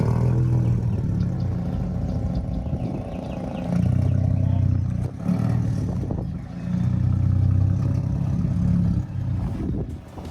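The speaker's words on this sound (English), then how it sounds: "Take a listen to that exhaust note." A 2021 Ford Raptor pickup truck engine revs repeatedly through a stainless steel exhaust, its deep exhaust note swelling and easing in waves, loud and close with no talking.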